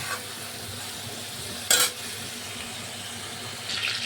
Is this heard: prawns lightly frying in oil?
yes